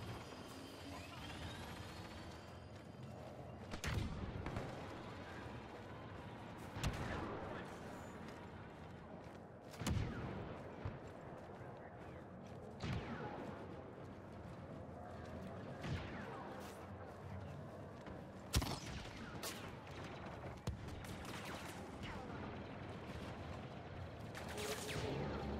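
Blaster gunfire from Star Wars Battlefront 2 multiplayer combat, dense and continuous with sharp repeated bursts and crashes over a busy battle din, with voices calling out amid the fighting.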